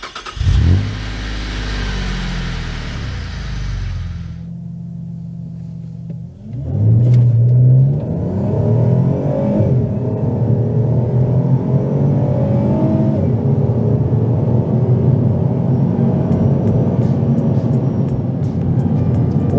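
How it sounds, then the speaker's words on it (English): A 2009 Alfa Romeo 159 JTS V6 engine revs loudly up close, drops briefly, then surges again into a sustained, rising acceleration roar with no talk over it. "this is still a sensational sounding engine and really makes this car come alive."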